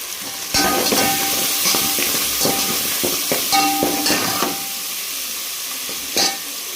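Ginger garlic paste with turmeric sautéing in hot oil for country chicken curry, a loud steady sizzle broken by repeated spoon scrapes and stirring knocks against the pan.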